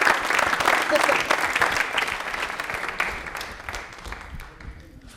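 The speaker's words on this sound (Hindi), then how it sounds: "तालियां अर्पित के लिए बजा दो" Studio audience applause for a contestant on a televised quiz show, loud at first and then gradually thinning and fading away toward the end, with some voices underneath.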